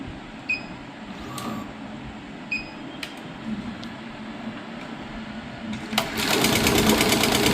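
Computer embroidery machine stitching on net cloth, with scattered clicks and taps in the first seconds before a loud, steady rapid stitching rhythm starts and runs to the end, close up.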